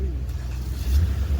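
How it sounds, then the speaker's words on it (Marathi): A car rumbles in traffic on a road on the way to Matheran, a close, low engine drone with a slight swell partway through in a short burst. "ट्रॅफिक झालेली आहे या गाडीमुळं"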